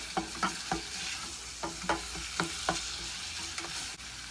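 Homemade hotdog sauce cooking in a pan, a spatula scraping and chopping through it in a steady series of close strokes over a constant low sizzle.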